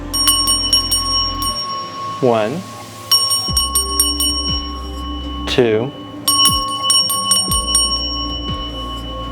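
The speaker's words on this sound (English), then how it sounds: "you're going to ring it 3 times over your image" A handbell used in a spell ritual rings three separate times over an image, each strike bright and ringing with a long shimmering decay, while a nearby voice talks and counts between the rings.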